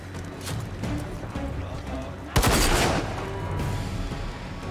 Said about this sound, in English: It looked like there was one shooting me from the top